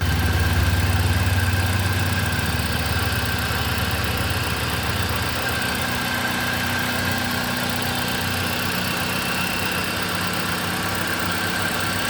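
A petrol engine idles steadily after an ignition coil socket replacement, a continuous mid-pitched running drone with a faint squeal, loudest in the first few seconds and then holding even, with no talking.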